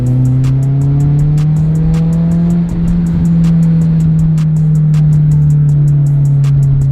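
A loud Acura RSX engine drones steadily with a deep exhaust note through an HKS Hi-Power exhaust and Injen intake, while sharp crackles and pops burst out repeatedly on top of it.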